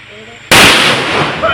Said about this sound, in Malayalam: പടക്കം പൊട്ടി